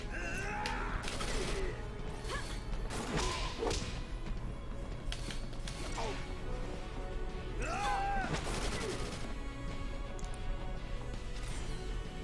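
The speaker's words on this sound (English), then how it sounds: "Boom! Grenade!" In the Final Fantasy 13 game, sharp percussive blasts and whip-like cracks of grenade explosions and gunfire go off repeatedly over a continuous battle din, with voices heard in places.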